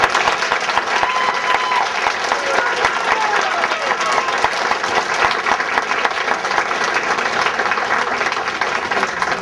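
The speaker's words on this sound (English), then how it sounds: "I think they deserve another round of applause" An audience gives a sustained round of applause for a touring children's theatre cast at an air force base show, loud dense clapping with crowd noise continuing throughout.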